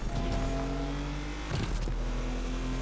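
Porsche 959 S with an 860-horsepower full-grip build in Need for Speed Unbound, its engine droning loud and steady with a sustained low tone, a brief surge of revving and a bump near the middle.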